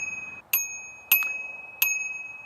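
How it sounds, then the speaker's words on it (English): Three bright metallic dings from a small handlebar bell on a Tenways CGO600 Pro single-speed belt-drive e-bike, struck at steady intervals about half a second apart, each ringing out with a clear lingering tone. "It's got a little bell."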